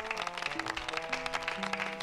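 Rhythmic hand clapping within a song, steady claps blended into the full band mix with sustained vocal and instrument tones.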